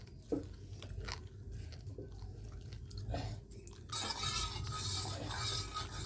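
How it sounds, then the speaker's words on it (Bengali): A spoon stirs chicken filling for stuffed pitha in a pan, giving soft repeated scraping and clinking strokes, quiet and close, with a busier sizzling patch toward the end. "সমানে নাড়তে থাকতে হবে বন্ধুরা, সমানে নাড়তে থাকতে হবে।"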